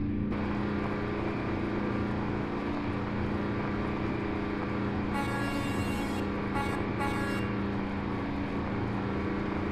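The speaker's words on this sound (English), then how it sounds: "You can just listen to the truck, okay? Just listen to the truck. Just listen to the noise." A 1970s Fleetstar 2070A logging truck in a truck simulator game drones steadily with a loud, constant engine hum and strong low tones, joined midway by a few short higher tonal bursts like horn toots.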